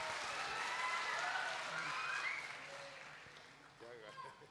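An audience at a Bundeli folk song gathering in Sagar claps together in a dense burst of applause, which fades out while voices carry on underneath.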